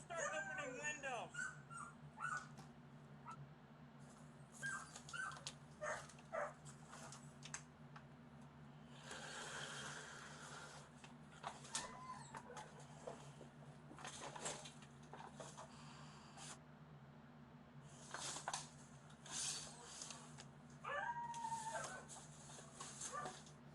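Several malnourished dogs inside a house whimper, yip and bark on and off while voices talk over them throughout.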